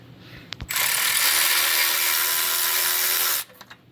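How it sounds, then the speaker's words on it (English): A 10mm bolt near the subframe of a 2005 Monte Carlo is run out under the car with a continuous whirring mechanical tool sound lasting about three seconds, close and loud, after a few brief clicks. "You're going to want to stick your wrench or your ratchet in front of your subframe here."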